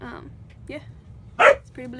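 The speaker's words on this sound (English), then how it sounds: "Sorry about the dog." A dog gives a sharp yip or bark amid short whining sounds indoors, close by, while someone talks over it during a makeup haul.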